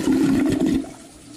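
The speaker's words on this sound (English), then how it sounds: "I just like watching the water swoosh down the drain." Water rushing down a drain, a loud gurgling swoosh that tapers off after nearly a second into a fainter trickle.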